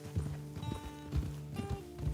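Horse hooves clip-clop at a steady trotting rhythm in Red Dead Redemption 2, close and clear with repeated paired hoof strikes, no talking over them.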